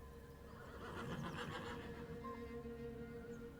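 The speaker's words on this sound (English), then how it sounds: "one animal that lived in the steppe in abundance:" Wild horse of the steppe neighing, a single drawn-out whinny heard faintly and at a distance against a quiet background.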